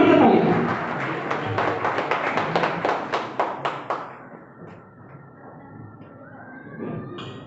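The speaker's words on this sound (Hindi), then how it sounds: "एक बार जोरदार ताली के साथ मैं सर को माइक हैंड ओवर करना चाहूंगा" An audience claps in a burst of applause right after a request for a loud round of clapping. The clapping is dense and steady for about four seconds, then fades into low room noise and a faint voice.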